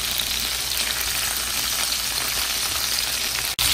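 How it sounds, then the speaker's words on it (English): Lamb chops sear in olive oil in an iron skillet, giving a steady loud sizzle and crackle that holds evenly throughout, with a brief dip near the end. "In my iron skillet, I have about 2 or 3 tablespoons of olive oil. I'm pan searing the lamb chops."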